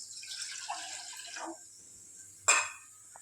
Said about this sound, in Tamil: ரெண்டரை டம்ளர் தண்ணி இந்த பாத்திரத்தில் அளந்து வச்சுருக்கேன் அதை இப்போ இந்த பாத்திரத்தில் விட போகிறேன்